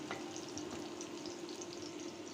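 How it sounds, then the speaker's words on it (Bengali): Dry red chillies and onion sizzle in hot oil for a lentil tempering, a steady dense frying hiss, fairly quiet and continuous with no voices. "বুট বাগার দিয়ে দিচ্ছি শুকনা মরিচ আর পেঁয়াজ দিয়ে"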